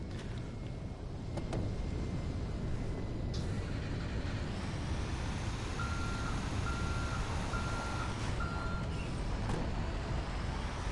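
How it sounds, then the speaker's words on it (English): Garbage truck reversing alarm in GTA Online, a steady series of four evenly spaced beeps over constant engine and street rumble, with no talk. "Oh no, garbage trucks"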